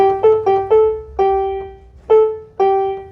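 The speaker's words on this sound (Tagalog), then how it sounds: "ganito yung tunog niya pag walang sustain" A Betsy B151 foldable rechargeable electronic keyboard piano is played without sustain, with about seven separate notes struck in an uneven rhythm. Each note decays quickly and plays alone with no talking.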